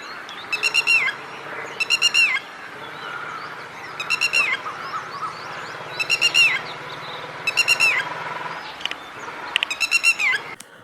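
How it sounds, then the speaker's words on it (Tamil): Red-wattled lapwing calling in the open: repeated sharp, piercing bursts of rapid call notes, six clear phrases spaced evenly about every two seconds, loud and close over a soft background of other faint birdsong. "இந்த ஆள்காட்டி குருவியை நாம் சத்தத்தை பெரும்பாலும் கேட்டிருப்போம், பறவையை பார்த்துருக்க மாட்டோம்."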